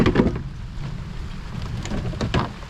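Steady rain hisses across open water while out on a fishing boat, mixed with gusty wind buffeting the microphone and a few soft thumps.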